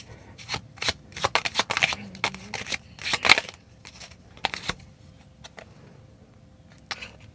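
Tarot cards shuffled by hand before a card is pulled, crisp riffling flurries in uneven bursts with quieter gaps, close up and mostly without talk.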